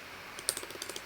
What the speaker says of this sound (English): So I'm gonna go ahead and type this in